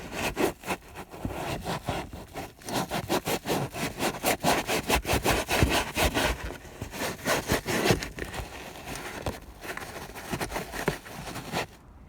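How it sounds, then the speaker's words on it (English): Rough, rhythmic scrubbing of a degreased soft top drain on a Toyota MR2 using a scourer, steady back-and-forth rubbing strokes close up with no talk. "let it soak in for a few minutes, and then we're going to scrub it with a scourer"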